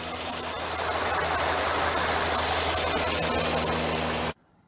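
A rebuilt GM Ecotec engine runs steadily after an overhaul, giving a continuous close idle drone with a broad noisy rush and low hum that cuts off abruptly near the end.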